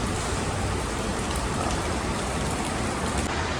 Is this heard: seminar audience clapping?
no